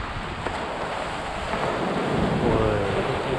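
Ocean waves wash around a sailing yacht travelling from Yakushima toward Ibusuki, a continuous rushing surf with wind buffeting the microphone and the water's roar swelling slightly toward the end.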